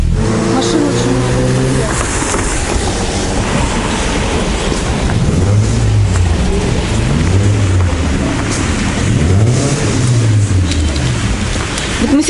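Cars drive along a street in Anapa, a resort town in winter, passing with steady engine and tire noise and rising revs, heard loudly and close throughout, with voices speaking over the traffic.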